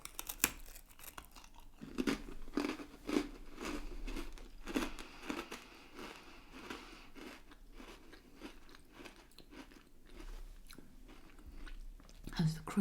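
Crunchy Michigan Windmill Cookies studded with almond bits are bitten and chewed up close, giving repeated crisp crunches and soft mastication sounds in an irregular rhythm, with a voice talking over parts of it.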